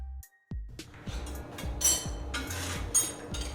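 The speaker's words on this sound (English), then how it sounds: "That's the sound of a pizza being made with delicious Baccio cheese." Metal utensils clink and tap against dishes in a series of sharp, irregular knocks while a pizza is made, with kitchen clatter continuing steadily and no talking.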